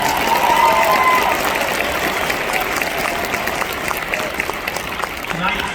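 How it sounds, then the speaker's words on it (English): Broad, steady applause from a large crowd at a university commencement ceremony, sustained at an even level from start to finish. "This ceremony, you may certainly clap."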